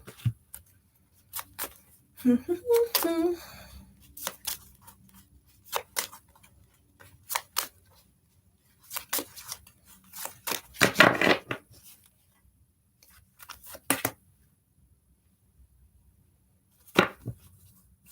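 Tarot cards are handled and shuffled during a live psychic reading, sparse soft taps and flicks with a brief denser riffle midway, close and quiet between gaps.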